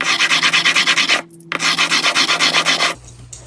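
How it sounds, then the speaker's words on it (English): A fixed blade broadhead is drawn in repeated rhythmic strokes across a sharpening stone, a close, loud rasping scrape with a short pause midway, then stopping. "I'm sharpening my broadhead."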